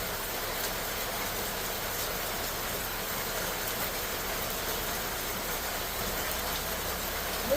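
Steady rain drums on a tin roof, a dense, even patter with no break throughout.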